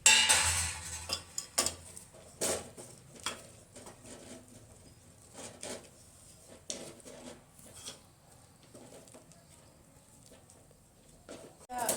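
A pot of Gujarati lapsi, a wheat dessert, is stirred over a low flame, with the pot set on a griddle. Scattered clinks and scrapes of a spoon against the pot come and go, fairly close, with no one talking.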